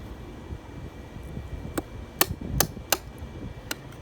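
Chisel chopping down through dovetail waste in wood, a few sharp separate knocks spaced about half a second apart, close and clear over a quiet background.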